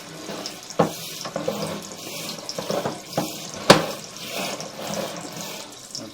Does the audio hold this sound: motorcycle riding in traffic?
no